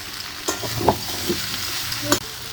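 Bottle gourd, potato and prawns being stir-fried with a little salt in a pan, a low sizzle with a few sharp scrapes and clatters of a spatula spaced through the clip, close by, no talk.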